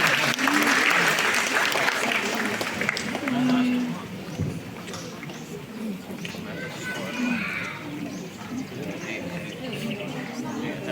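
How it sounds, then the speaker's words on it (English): Loud applause breaks out at a kindergarten graduation, then thins into scattered claps, with children's voices and a brief high tone heard through the fading clapping. "A round of applause, please."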